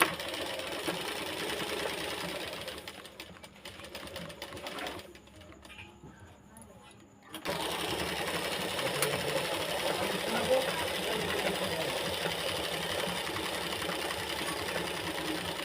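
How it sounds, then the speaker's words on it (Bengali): A sewing machine stitches fabric along a marked line in a steady, close mechanical whir. It pauses for a moment midway, then resumes, with soft background noise underneath. "এখানে আমি সেলাইটা ঠিক এইভাবে করে শুরু করে নিলাম"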